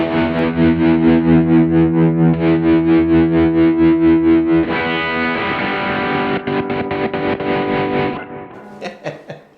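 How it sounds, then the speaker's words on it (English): Sustained electric guitar chords throb with a steady, smooth Fender-style photocell tremolo pulse from a Kemper rig, then give way to choppier strummed passages before fading out. "Sounds like a photo cell, you know, Fender trem."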